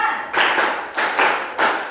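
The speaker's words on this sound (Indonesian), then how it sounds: "Tepuk 5." A group of students in a school session claps in unison, a rhythmic clap-five pattern landing as three dense bursts of blended hand claps, close and fairly loud.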